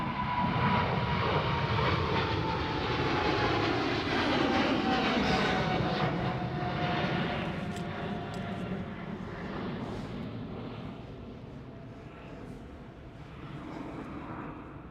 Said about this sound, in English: We can still see her departing. Qatar Cargo 777.